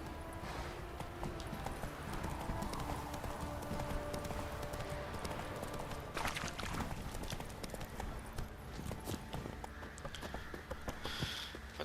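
Roach the horse gallops in The Witcher 3, a steady run of clip-clopping hoofbeats over game ambience with a brief neigh partway through.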